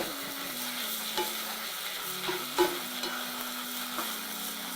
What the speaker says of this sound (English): So I'm going to let this stir fry for a while.